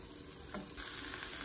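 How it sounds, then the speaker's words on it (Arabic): Onions fry in a heated pan for a calamari tagine, a steady soft sizzle that grows louder and brighter partway through, close and continuous with no talking. "خلي البصل يتحمر الاول شويه كده"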